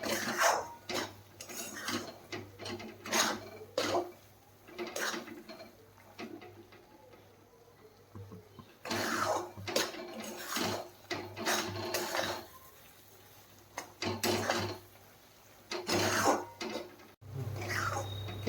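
Semolina roasted in ghee in a pan for a sweet shira, stirred with a spoon that scrapes and clinks against the metal in irregular bursts, close, with short pauses between stirs.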